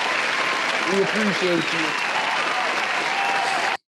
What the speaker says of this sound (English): Round of applause for Drew Brees in his career.